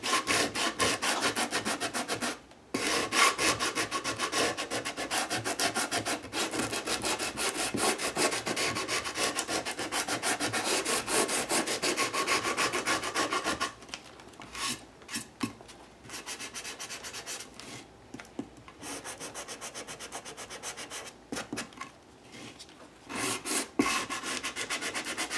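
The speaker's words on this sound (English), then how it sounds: "I'm going to bring my sanding block back in" Rapid back-and-forth rubbing of a sanding block on a mixed-media artwork of paper, texture paste and watercolor, brisk and close, with short pauses between bursts of strokes.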